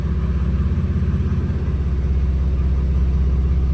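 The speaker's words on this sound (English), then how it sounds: "I just don't think he can hear me because of how loud the car is" A BMW F80 M3 engine runs loudly during a DCT re-learn, a deep, steady, throbbing rumble close by that never lets up.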